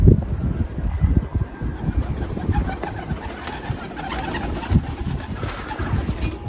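Pigeons cooing and fluttering nearby, soft low coos and wing rustles over a breezy outdoor background with no talking.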